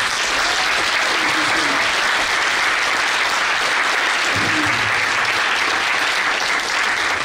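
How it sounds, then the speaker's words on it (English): A live masterclass audience applauds its speakers with loud, sustained clapping that holds at a constant level throughout, with a faint voice briefly audible beneath it. "Okay, another round of applause to our speakers,"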